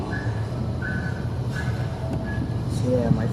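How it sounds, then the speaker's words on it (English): CPKC freight train 113 from St. Luc Yard rolls past on a windy day, a continuous close rumble of railcars and wheels with faint thin squeals sliding over it. "my third and final train of the day, 113"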